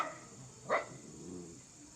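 A single dog bark rings out once near the middle, short and fairly close, standing alone against quiet background hiss with no talking.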